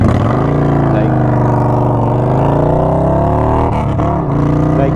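Indian Scout motorcycle fitted with a Hacker Mayhem 2-into-1 exhaust idling nearby, a loud, steady, fairly high-pitched engine burble that holds even throughout.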